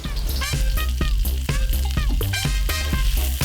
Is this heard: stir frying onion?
yes